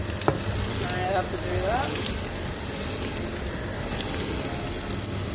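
Onions frying for beef tacos hiss and sizzle steadily in a hot pan with some stirring, a brief voice heard partway over the constant crackle.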